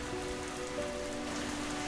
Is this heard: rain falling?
yes